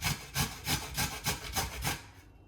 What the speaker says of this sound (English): I'm just basically grate a potato all the way